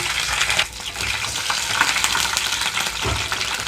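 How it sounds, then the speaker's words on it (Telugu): Green chillies, slit down the middle, sizzling and frying steadily in about two tablespoons of hot oil in a pan, a continuous close crackle with occasional stirring scrapes and no talking. "ఆయిల్ హీట్ అయిన వెంటనే ముందుగా పచ్చిమిరపకాయలు వేసుకుంటున్నాను"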